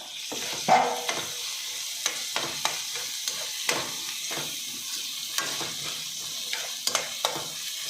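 Capsicum frying in a pan while being stirred, a steady close sizzle broken by repeated scraping stir strokes and soft knocks of the utensil, with no talking.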